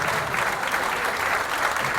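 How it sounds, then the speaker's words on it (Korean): Steady, dense applause from a crowd at a town-hall meeting between People's Party leaders and Seongju residents, sustained and even for two seconds without a break. "큰 박수 부탁드리겠습니다"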